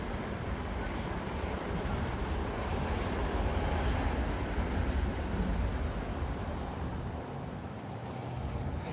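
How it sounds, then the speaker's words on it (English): A Long Island Rail Road train rolls past close by, a loud continuous roar of wheels and rumble with faint squealing, steady throughout with no voices. "That's a Long Island Railroad, guys."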